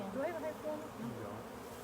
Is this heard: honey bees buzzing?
yes